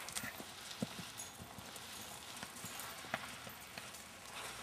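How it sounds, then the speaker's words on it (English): Rhythmic hoofbeats of a horse cantering, dull thuds in a repeating three-beat pattern, moderately close, over a faint background hiss. "Cantering is Link's favorite gait"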